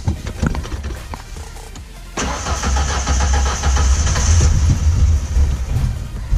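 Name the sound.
1994 Ford Ranger engine turning over after ignition switch swap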